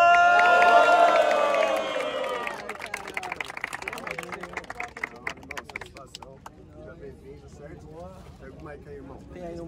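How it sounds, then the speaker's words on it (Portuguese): An audience cheers and claps to welcome a comedian to a stand-up comedy show in Itaquera, São Paulo: loud shouting and whooping at first, then a dense crackle of clapping that thins out, with crowd voices mixed in. "muito barulho para Thiago Carvalho!"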